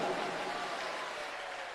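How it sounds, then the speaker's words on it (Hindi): Dense, steady applause from an audience at a Shiv Katha religious gathering, a continuous wash of clapping with no voices on top. "एक बार जोरदार ताली बजाइए।"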